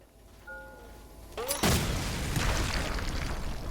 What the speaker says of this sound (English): Another place for explosion, I assume.